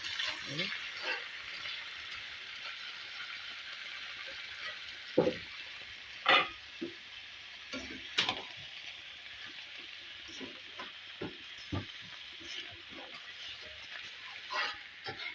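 Meat added to spice paste and onions frying in a pan gives a steady, fairly quiet sizzle throughout, broken by several sharp stirring clatters and scrapes.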